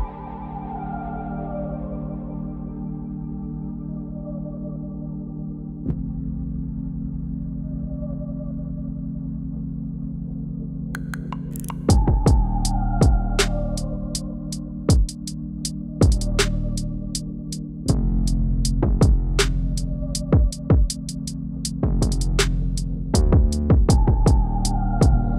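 Ricoma EM1010 embroidery machine stitching red thread onto stabilizer, a steady mechanical hum that starts after a low drone and builds into a rapid, loud chattering of needle strikes with short pauses, no talking.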